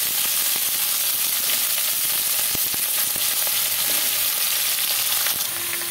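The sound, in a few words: vegetables added to hot oil, frying with nigella seed tempering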